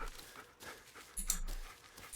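A dog panting in the horror video game Blair Witch, a few quick breathy huffs close by, quiet and short, with no talk.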